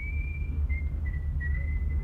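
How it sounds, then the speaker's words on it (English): A man whistles a thin, wavering tune in several short phrases over a low, constant hum, in a vintage radio comedy scene. "Yeah, go on whistling."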